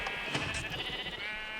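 Sheep bleat in the Minecraft video game, a few close, wavering calls overlapping one another and filling the short stretch with no talk.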